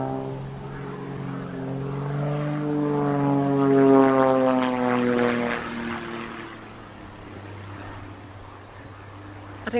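A propeller airplane doing loop-the-loops overhead, its droning engine rising and falling in pitch as it passes, loud in the middle and fading toward the end.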